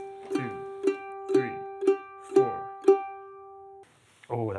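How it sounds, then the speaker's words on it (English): Six quick, evenly spaced mandolin notes are picked with alternating down-up strokes on a single pitch, each ringing briefly, before the string is damped and a voice starts speaking. "we're going to play those with a down up pick direction"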